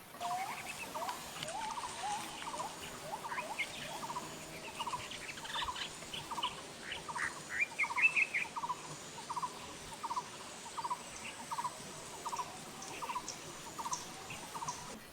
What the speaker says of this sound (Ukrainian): такий приємний спів пташок, тому що пташки повернулись з теплих країв додому